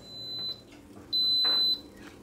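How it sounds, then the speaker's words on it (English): An Instant Pot beeps at the end of a 15-minute cook cycle: two sustained electronic tones, a short one and then a longer one, loud and close, with faint clatter between them. "that is our Instant Pot just finishing the 15-minute cook cycle"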